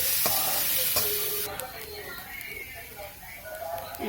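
Pieces of pirandai (adamant creeper) sauté in hot oil for a Tamil thuvaiyal, giving a steady close sizzle with a few stirring clatters. The frying hiss is loud at first and settles a little toward the end.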